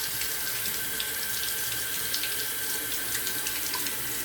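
A Mühle R41 safety razor in rose gold is rinsed under a running tap, giving a steady, even water hiss with no voices.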